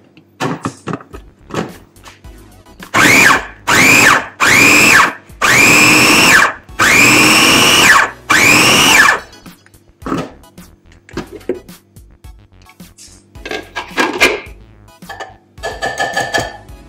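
An electric blender whirs through an onion and cilantro kebab marinade in five loud, close bursts of a few seconds each, separated by pauses and followed by quieter clatter and handling noises.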